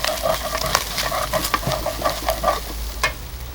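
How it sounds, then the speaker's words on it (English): Ginger, cardamom pods, chili, lemongrass and onions fry in a pan for an oxtail Mussaman curry, with repeated scraping stirs of a spoon over a steady close sizzle. "Just going to let them fry off for a couple of minutes."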